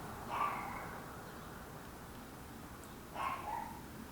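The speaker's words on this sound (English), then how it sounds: "of course, she's barking" A pet dog indoors gives two short barks a few seconds apart, moderately near but soft against a quiet background.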